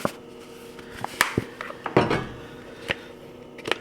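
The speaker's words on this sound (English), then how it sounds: "We're just going to stir that really well." A spoon clinks and scrapes against a metal pot while creamy Cajun chicken pasta soup is stirred, giving irregular close knocks and light scraping over a faint background.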